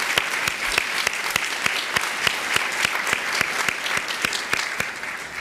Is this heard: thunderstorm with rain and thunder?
no